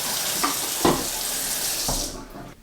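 Rinse water poured out of a film developing tank into a sink, a continuous splashing stream with a few louder gushes and glugs, close by, tapering off at the end.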